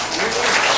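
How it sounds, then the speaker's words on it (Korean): An audience applauds at a Korean political debate session, a dense, loud wash of clapping filling the short moment with voices mixed in. "박수 자꾸 치는 흐름이 끊기니까"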